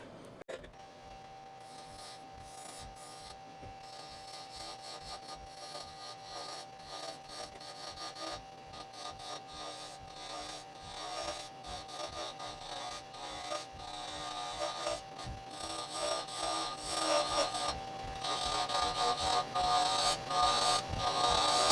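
A wooden egg shape for a kaleidoscope spins on a lathe while a tool takes a steeper cut, giving a faint, continuous rasping scrape that grows slightly louder toward the end.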